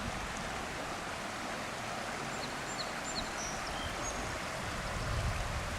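Water gushes up steadily from a large spring along the upper Elk River, a continuous broadband rushing and burbling heard close by, with no talking.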